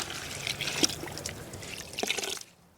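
Water trickles and splashes steadily over fresh greens being rinsed before drying into chips, ending abruptly after a few seconds.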